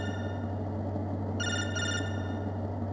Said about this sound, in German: Schon wieder das Telefon.